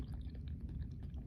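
Someone eats potato chips alongside a turkey sandwich, making soft, close-up crunching and chewing sounds in a quiet setting with no speech.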